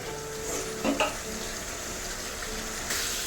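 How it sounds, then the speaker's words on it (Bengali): A little water is poured into a frying spice paste of chili powder and salt, bringing a steady hissing wash of sound with a couple of brief splashy bumps near the start. "এখন সামান্য একটু জল অ্যাড করবো ভালো করে মশলাটা কষানোর জন্য"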